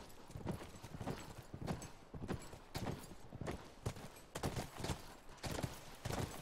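A horse gallops in the video game The Last of Us, a quiet, rapid run of clip-clopping hoofbeats with a steady, uneven rhythm throughout.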